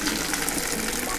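Water runs steadily from a tap in a garage to wash out a used car air filter. The rushing, splashing flow is loud and close and keeps going without a break.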